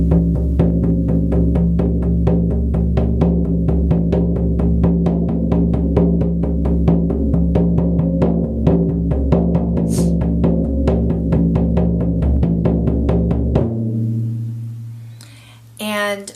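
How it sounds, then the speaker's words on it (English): A Remo Buffalo frame drum is beaten with a mallet in a shamanic journeying rhythm: fast, steady, evenly spaced booming strokes for about thirteen seconds, then a sudden stop that leaves a low resonant ring fading out. "This is my Remo Buffalo drum."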